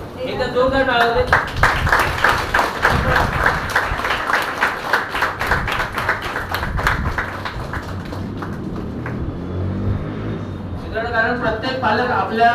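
Loud applause from an audience at a guidance camp honouring a deputy council president, dense clapping sustained across the clip, fading slightly in the middle before swelling again, with crowd noise mixed in.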